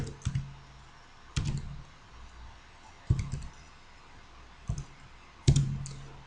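Computer keyboard keystrokes while entering coordinates in GeoGebra, a handful of distinct, close clicks spaced about a second or more apart over a quiet background.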